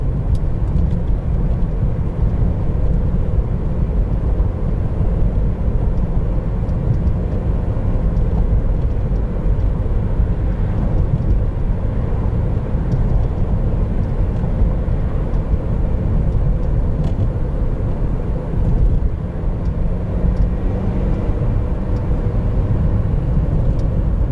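Steady, loud drone of a 2012 Honda Civic Si four-cylinder engine while driving, a constant low hum with road rumble and no notable changes in pitch throughout.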